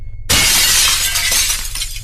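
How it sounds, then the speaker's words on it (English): Glass and dishes shatter in a sudden loud crash after a brief quiet start, followed by a dense, continuous spray of breaking shards and tinkling debris. "I heard dishes being thrown aggressively against the door and glass shattering constantly"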